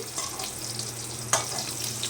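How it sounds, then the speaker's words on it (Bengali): Fish heads frying in hot oil in a home kitchen, a steady close sizzle with a brief sharp spatter partway through, no talking. "এই যে মাছের মাথাগুলো ভেজে নিচ্ছি"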